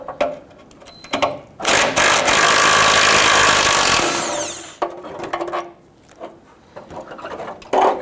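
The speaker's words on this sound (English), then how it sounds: "you want to hold that with one hand while you remove this bolt" A power tool whirs loudly for about three seconds as it works a bolt free from the skid shield under a Toyota Tundra 4.7L V8, with shorter clicks and mechanical rattles before and after.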